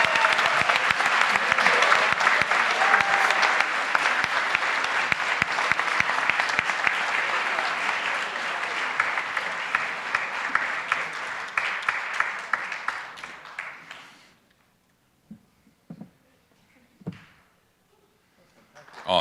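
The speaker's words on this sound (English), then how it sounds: "how about a big round of applause for TinnX coming as the runner-up" Sustained applause from a sizable crowd at an entrepreneurship pitch competition, loud and dense for about fourteen seconds, then fading to silence with a few scattered knocks.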